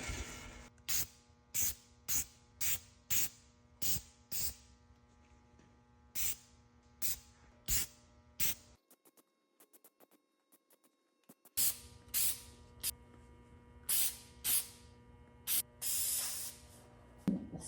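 Protecticoat clear protective coating hisses from an aerosol rattle can onto steel in repeated short bursts, sharp and close, then a pause and more rapid sprays.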